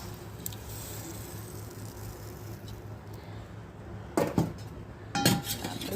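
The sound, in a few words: spoon stirring dal in a pot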